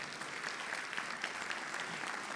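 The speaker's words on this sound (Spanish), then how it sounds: "Dale un aplauso al Señor." A church congregation applauds during a Sunday service, a soft, steady patter of many hands clapping at a distance, continuous and even throughout.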